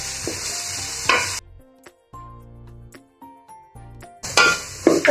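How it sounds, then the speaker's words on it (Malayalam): Onion, green peas and carrot frying in a pan, with bursts of crackling sizzle and stirring broken by near-silent gaps and faint clinks of a utensil against the pan, close by. "നമ്മൾ എടുത്തു വെച്ചിരിക്കുന്ന സവാള ഇട്ട് കൊടുക്കാം. പിന്നെ ഗ്രീൻ പീസ്, ഇതിലേക്ക് തന്നെ ക്യാരറ്റ്"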